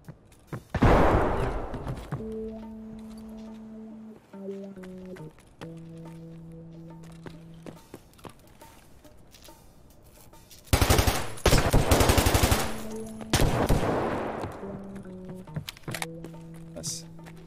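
Bursts of gunfire ring out in the video game Escape From Tarkov, with loud rapid volleys near the start and a heavier sustained burst midway, mixed with steady in-game tones and someone speaking over parts of it.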